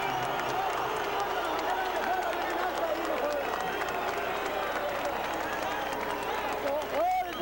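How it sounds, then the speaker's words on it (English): Boxing arena fans applauding featherweight champion Antonio Esparragoza after his technical knockout win, continuous clapping and crowd noise under a ringside announcer's voice. "now some well-deserved applause as the fans recognize what a good fight Esparragoza really did fight"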